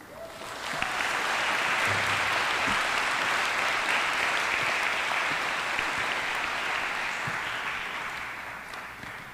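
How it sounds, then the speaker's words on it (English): A crowd at a law enforcement academy graduation applauds loved ones, a loud, sustained roar of many hands clapping that swells in quickly, holds steady, then slowly tapers near the end. "Can we please give a round of applause for our loved ones that have supported us today?"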